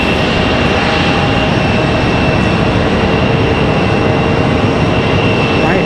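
Swoop airliner in pink and white livery at Raleigh-Durham airport, its engines a loud, steady broadband roar filling the whole stretch without a break.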